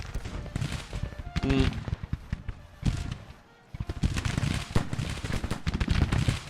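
Musket volleys crackle from Civil War soldiers in the Grand Tactician battle game, dense overlapping bursts of gunfire rolling on nearly continuously, with a brief lull midway before firing resumes loudly, and a voice shouting over the shots.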